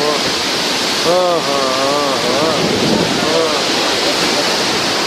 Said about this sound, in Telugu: సముద్రం సౌండ్ వస్తుంది, భయంకరంగా ఉంది.